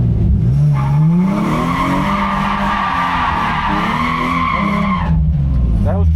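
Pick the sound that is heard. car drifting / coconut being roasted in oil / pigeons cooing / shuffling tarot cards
car drifting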